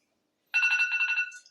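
A phone ringtone plays a short, clear melodic burst of repeating electronic tones, loud and alone, cutting off after about a second.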